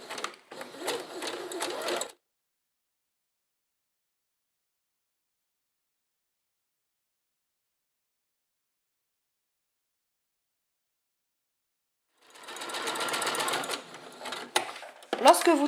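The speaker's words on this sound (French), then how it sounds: "placer uniquement cette couche de tissu à l'extrémité du pied presseur et faites votre point de zigzag habituel" A sewing machine runs a zigzag stitch along a single layer of fabric at the edge of the presser foot, in two close, busy bursts of rapid stitching separated by a long silence.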